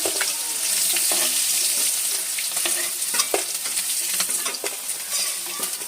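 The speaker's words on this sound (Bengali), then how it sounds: "আমি হালকা ধরে ভেজে নিচ্ছি মাছ মাছটা তুলে নিচ্ছি একটু" Pieces of katla fish fry in oil in a pan, a close, continuous loud sizzle with small crackles and occasional stirring clicks, no talk.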